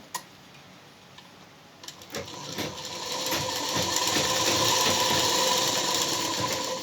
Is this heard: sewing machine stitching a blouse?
yes